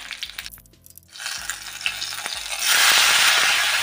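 Panch phoron and dried chillies fry in oil for tomato chutney, a soft sizzle under background music that swells into a loud, close, steady hiss toward the end.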